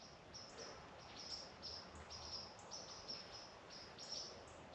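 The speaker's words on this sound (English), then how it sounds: "Can you hear the birds?" Faint bird chirps repeat in quick high bursts over a soft outdoor hiss in the sandhills, distant and steady, with no voices.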